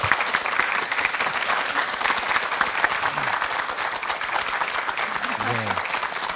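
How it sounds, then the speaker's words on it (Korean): A studio audience at a Korean morning talk show applauds two lecturers with steady, dense clapping that fills the whole stretch at close range, with a faint voice underneath. "오늘 멋진 강의해 주신 두 분께 감사의 박수 전해 주시기 바랍니다."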